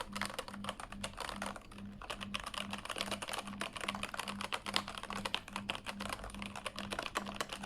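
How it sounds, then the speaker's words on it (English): Steady, even keystrokes typed on a Keychron K8 mechanical keyboard with an aluminum frame and standard keycaps, a close, continuous clatter of quick clicks that runs the whole time with no voices. "How about the sound of keycaps?"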